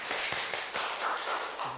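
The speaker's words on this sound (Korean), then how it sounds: "박수 드리겠습니다" Applause breaks out during a church Sunday worship service, a steady wash of many hands clapping close by for the whole moment, with a few sharper individual claps standing out.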